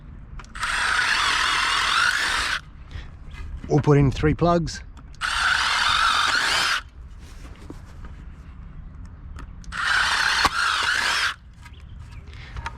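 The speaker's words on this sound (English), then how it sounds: "we're going to be using a 8mm drill bit. Drill some holes straight through." A power drill with an 8mm bit bores straight through a post in three separate bursts, each a loud, steady whine of about two seconds, with a voice speaking briefly between the first two.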